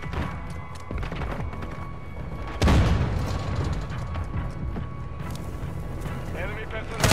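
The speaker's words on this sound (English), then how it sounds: "Friendly mortar strike on the way." Mortar strike explosions in Call of Duty MW2 multiplayer: a heavy boom lands partway through, with another thud at the end, over constant battle noise and game voice callouts.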